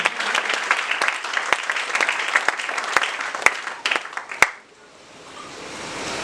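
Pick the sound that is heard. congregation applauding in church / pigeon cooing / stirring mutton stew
congregation applauding in church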